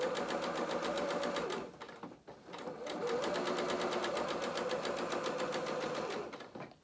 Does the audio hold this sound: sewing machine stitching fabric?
yes